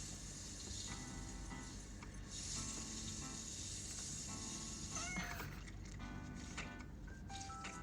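Cats meowing in the mobile game Cats and Soup: faint, short meows over a steady musical and ambient game background, quiet and continuous.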